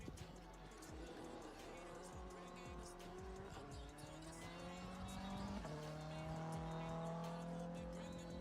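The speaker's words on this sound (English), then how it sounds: "We're getting one of them, of the white WRX going off track." A white Subaru WRX rally car going off track on a forest rally stage, its engine rising and falling with gear changes and tyre scrabble, heard at a distance with voices talking over it.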